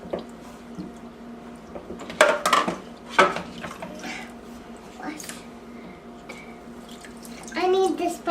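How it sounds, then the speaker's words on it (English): Water sloshes and splashes as it is stirred in a toy dishwasher, with louder splashes and clinks of small dishes now and then. Faint children's voices sound in the background, and someone speaks near the end. "I'm stirring the water."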